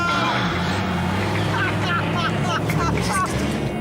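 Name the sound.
Chevrolet Camaro accelerating from a standstill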